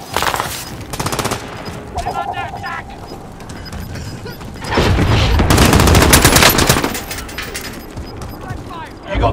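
Bursts of automatic gunfire in the battle royale shooter Call of Duty Warzone, loud and close, with a sustained heavy volley in the middle and mechanical clatter, under spoken game voice lines.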